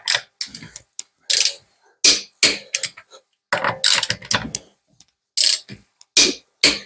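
A wrench tightens the lug nuts on a car wheel during a DIY tire swap, giving off sharp ratcheting clicks in short irregular bursts with quiet gaps between them, close and fairly loud.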